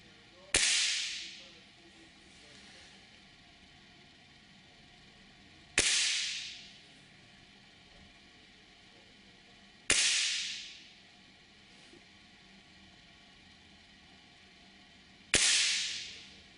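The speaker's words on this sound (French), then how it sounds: "j'ai tiré les plombs fournis d'origine dans la carabine à ressort, non équipée de lunettes." Four sharp cracks from an X-blade 2 spring air rifle firing factory-supplied pellets without a scope, spaced several seconds apart, each a crisp, close snap with a short decaying tail over a quiet room.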